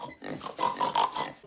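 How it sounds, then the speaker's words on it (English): A pig oinking and grunting in a quick series of nasal snorts, close and fairly quiet. "she has a pig"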